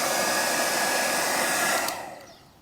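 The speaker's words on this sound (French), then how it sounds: "on va mettre le sèche-cheveux à fond, on va voir combien il tire" A hair dryer runs at full power, about 1800–1900 watts, drawn from a Fossibot F3600 portable power station. It makes a loud, steady whoosh and whine up close, then is switched off and winds down near the end.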